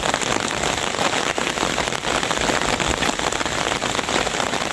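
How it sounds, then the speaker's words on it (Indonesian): Heavy, unceasing rain in North Kalimantan, a dense close hiss of drops pattering on surfaces with no voices. "ini sedang hujan di Kalimantan Utara saat ini, hujan tanpa henti gitu."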